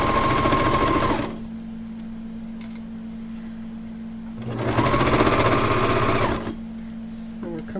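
A sewing machine stitching across a fabric seam, running in two steady loud humming bursts with a rapid needle chatter and a quiet pause between them.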